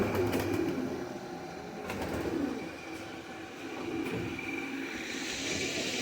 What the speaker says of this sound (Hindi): इसको कहते हैं चंदा खानी कबूतर